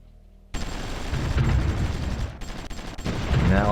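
Artillery and small-arms gunfire pound a garrison in a strategy war game, a dense, continuous fusillade of bangs and rattling shots that starts abruptly and continues throughout, with a brief voice near the end.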